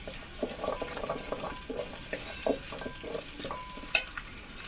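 Garlic fries in a pan until reddish while a spoon stirs and scrapes, giving a soft sizzle with irregular clinks and scuffs, fairly quiet and close.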